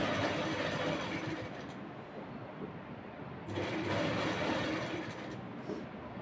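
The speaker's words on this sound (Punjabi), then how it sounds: "ਆਪਾਂ ਇੱਥੇ ਕਿਨਾਰੇ ਕਿਨਾਰੇ 'ਤੇ ਸਿਲਾਈ ਲਗਾ ਲਾਂਗੇ।" A sewing machine stitches along the edges of a neck strip on a lined kurta, running as a steady close mechanical whir that eases off briefly in the middle and then picks up again, with no talking.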